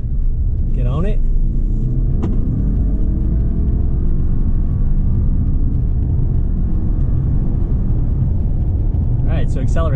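A lifted 2020 Subaru Outback XT accelerates with a steady, loud low engine and road rumble throughout, plus wind noise from a roof rack; brief voice sounds come near the start and end.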